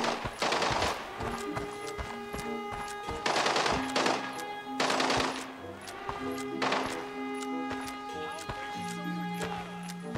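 Gunfire from an MPX submachine gun in a first-person shooter game, with loud bursts of rapid shots in several clusters against a background of game music and ringing tones, plus a voice talking.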